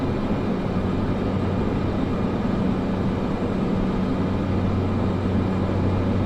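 An airplane lands in a crosswind in Microsoft Flight Simulator 2024 during a cargo transport mission, producing a steady, loud, broadband engine and wind roar that continues throughout without talk.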